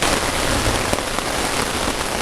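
A downpour hammers an REI Quarterdome backpacking tent in a loud, continuous roar of drops, with a few sharper impacts standing out from the dense wash, and no one speaking.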